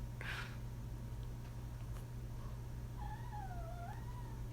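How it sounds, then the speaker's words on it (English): A dog indoors in a kitchen lets out a brief, odd, wavering crying whine, faint against a steady background hum, with a short sharp noise just before it. "my dog just made the weirdest noise"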